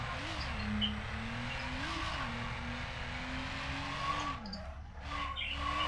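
A car in the Need for Speed Underground racing game with its engine droning and tires squealing in a long, wavering skid, loud and continuous throughout.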